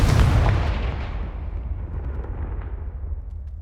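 A Confringo blasting curse bursts in Hogwarts Legacy, a loud booming explosion up front with a deep low-end thump that rolls off into a long rumbling decay, heard alone.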